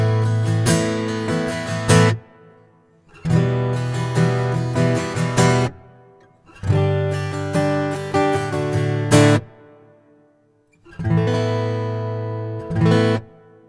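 Acoustic guitar played through a reverb effects pedal with the reverb switched on, heard as four loud strummed bursts separated by short pauses, each burst trailing off in a brief decaying wash.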